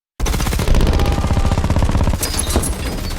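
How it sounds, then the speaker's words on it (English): Tank machine guns fire in a war scene. A loud, sustained rapid burst rattles without a break for about two seconds, then a heavier crack rings out as the shooting trails off. "the tank's main gun opens fire, destroying 2 Soviet tanks, while machine guns cut into the advancing infantry"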